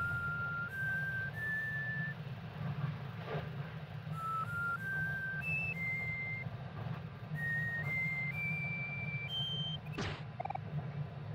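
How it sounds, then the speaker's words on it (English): A person whistles a simple stepped tune of clear, steady notes over a constant low hum, with a sharp click near the end. "Oh, he's whistling."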